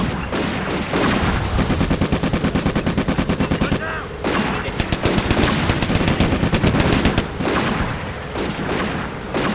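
Sustained machine gun fire from the Combat Mission: Afrika Korps war game, loud rapid bursts of automatic shots with a short pause midway, then dense firing again, mixed with other gunfire.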